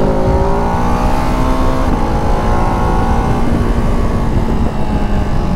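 A Ducati Hypermotard 698 Mono RVE motorcycle accelerating hard to overtake, its engine a loud, continuous revving roar that climbs in pitch, heard close with steady wind noise and no talking.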